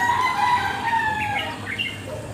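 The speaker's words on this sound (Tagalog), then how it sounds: "Ang daming manok ay." Chickens clucking and a rooster crowing outdoors on a morning walk, several bird calls rising and falling over a busy background, moderately close and with no talk.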